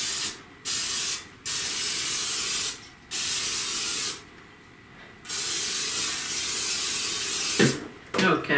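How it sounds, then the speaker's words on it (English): Several bursts of olive oil cooking spray hiss into a slow cooker, short at first then a long steady spray, with quiet pauses and a faint clatter near the end. "spray the inside of your slow cooker with a nonstick spray"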